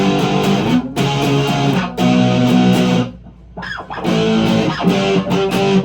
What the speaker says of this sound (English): A little bit of power chord stuff.